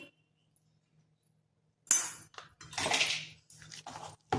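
Handvo batter stirred with baking soda in a bowl: near silence, then a sharp clink and a run of scraping, clattering utensil-on-bowl strokes in uneven bursts, close and fairly loud.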